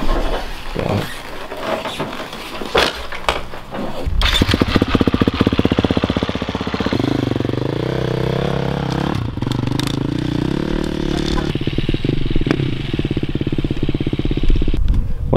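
A $20K race motorbike engine runs outdoors, revving and idling in uneven surges with loud, raspy clatter for the whole stretch, with no talk over it.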